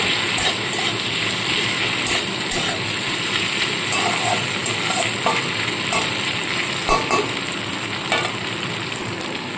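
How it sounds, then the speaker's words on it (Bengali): Ginger paste fries in oil with onion and tomato, giving a moderate, steady sizzle with light stirring clicks over a low constant hum throughout. "আদা বাটাটা দিয়ে একটু ভাজা ভাজা করে নেব"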